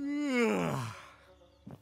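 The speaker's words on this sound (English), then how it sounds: "Why is he yawning like that?" A character in Thief Simulator 2 gives a long, loud yawn that falls in pitch and fades into a breathy sigh, followed by a short soft exhale near the end.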